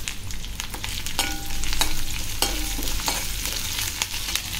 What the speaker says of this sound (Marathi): कढीपत्ता भरपूर घेतला, कढीपत्त्याचा एक छान फ्लेवर येतो मस्त या भाजीमध्ये। आणि आता एक छान परतून घेऊया।